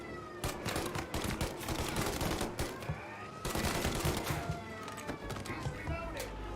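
Police shootout gunfire in the Mafia: Definitive Edition video game: dense, rapid bursts of shots crackling in clusters throughout, with a voice talking over the action.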